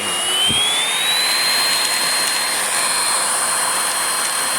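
A Hoover Blade Plus vacuum cleaner runs loud and close with its brush roll spinning, giving a constant roaring whine whose pitch climbs slightly at the start and then holds steady.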